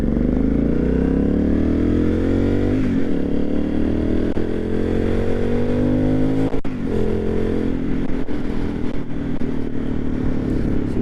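An Aprilia Shiver 750 motorcycle engine revs loudly up close, pitch climbing and dropping through several throttle blips with some mechanical clatter.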